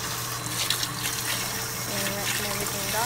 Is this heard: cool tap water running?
yes